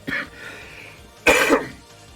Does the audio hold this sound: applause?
no